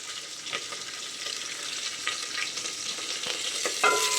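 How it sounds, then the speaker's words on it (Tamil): Curry leaves and dried red chilies sizzle in hot oil, a bright continuous frying hiss with occasional crackles and pops, close and steady. "போட்டுடலாம் கருவேப்பிலை வரமிளகா"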